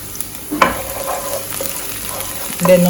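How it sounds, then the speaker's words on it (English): Saltfish frying in a pan with garlic and scallion, a steady close sizzle with occasional utensil knocks and stirring scrapes. "you fry the saltfish."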